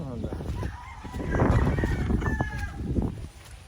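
Roosters crow and chickens cluck at a gamefowl farm in Angat, Bulacan, several birds calling at close to middle distance through a busy, noisy yard, with some voices nearby.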